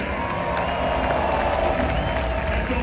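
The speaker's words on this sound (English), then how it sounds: "let's clap it up for our MC, our walker today, George Shea." Outdoor crowd at Nathan's Famous hot dog eating contest in New York City on the Fourth of July, a dense, continuous wash of applause and cheering that stays loud and even throughout.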